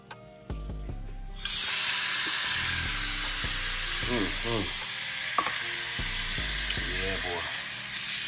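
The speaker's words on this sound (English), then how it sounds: "Fry them up." Jerk shrimp hit hot oil and break into a steady, loud sizzle that carries on continuously, with someone talking over the frying and a few light clatters.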